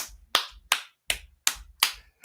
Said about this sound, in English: That is a backhand clap that you get.